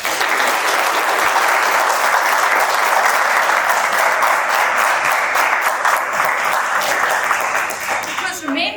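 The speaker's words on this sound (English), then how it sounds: "So I would like to ask our students now to give our families and friends, even if they're not here, a big round of applause." Students at a stethoscope ceremony give a big, loud round of applause, many hands clapping densely for several seconds, with voices and cheers mixed in as it fades toward the end.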